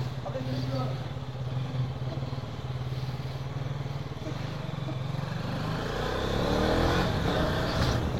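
A motorbike ride on the road with a steady, loud engine drone that rises toward the end as the bike speeds up, wind and traffic noise mixed in and a voice talking over it.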